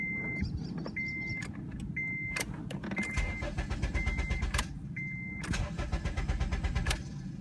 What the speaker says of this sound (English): See how it just turns over, but it doesn't actually start?